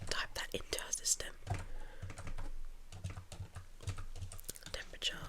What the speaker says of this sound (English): Let me go ahead and just type that into our system.